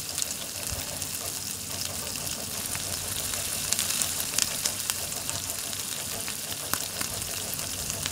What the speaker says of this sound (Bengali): এটাকেও সমানভাবে দু পিঠ ভালোভাবে ভেজে নিতে হবে।